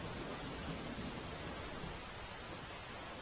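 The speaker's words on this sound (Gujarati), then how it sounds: "તાપીમાં ધોધમાર વરસાદ અત્યારે ખાબકી રહ્યો છે।" Heavy downpour over Tapi in Gujarat, a steady dense hiss of pouring rain that fills the whole clip at an even, fairly loud level with no voices.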